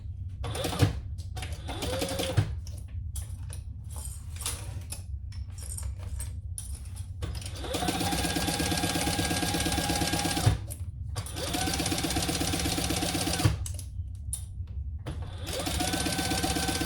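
A sewing machine bastes a pocket onto a fabric tote, whirring in loud, even bursts of a few seconds with brief stops between them and faint handling clicks in the gaps.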